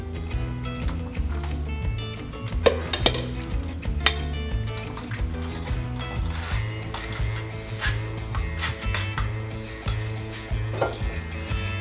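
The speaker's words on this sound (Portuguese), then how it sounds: "A cada 3 ou 4 conchas, limpe a peneira e continue peneirando." A ladle scrapes and clinks against a metal sieve while homemade ketchup is strained, giving repeated close metallic taps and scratches over a steady musical background.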